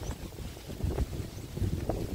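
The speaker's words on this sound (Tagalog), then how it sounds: "Mahangin kasi ngayon." Strong wind gusts buffet the microphone at an outdoor fish pond, a low rough rumble rising and falling in uneven bursts.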